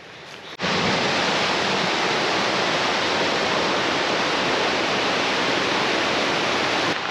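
Zillie Falls in Far North Queensland roars as a broad, steady rush of falling water that starts abruptly and stays loud and unchanging, with no voices over it.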